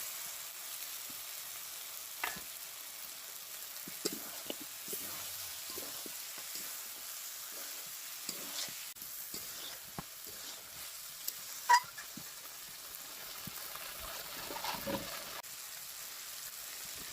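Chicken meat frying in a pan gives a soft, steady sizzle with faint crackles and a few light stirring knocks, fairly quiet and without speech.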